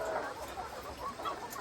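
Chickens cluck softly around their feed, a scatter of short quiet clucks over low background noise.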